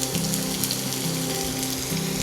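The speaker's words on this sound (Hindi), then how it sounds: "तो अभी हमारा जो घी था वो गर्म हो गया है। अब उसमें डालेंगे ये प्याज" Chopped onions fry in hot ghee in a pan, producing a steady, dense sizzle that fills the whole short stretch at close range with no one speaking.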